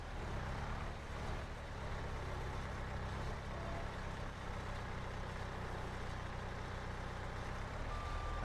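A truck backs out in Farming Simulator 22, its engine droning low and steady under a faint repeating reversing beep, the whole scene fairly quiet and continuous.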